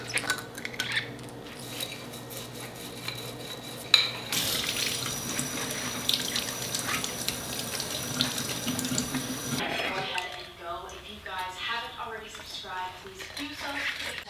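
A kitchen sink tap runs steadily while dishes are washed, with clinks of plates and cutlery over the water; it continues alone for a while, then talk comes in near the end as the water eases.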